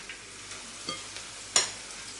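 Carp fillets coated in pancake batter fry in a pan over a lowered flame, a soft, quiet sizzle broken by a few sharp pops and one louder crackle.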